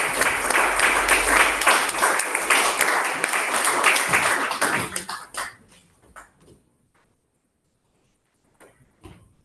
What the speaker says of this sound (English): Clap for her as she comes on stage.